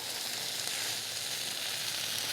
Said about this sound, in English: Once the bean sprouts are in, really you're just going to mix it up a little bit.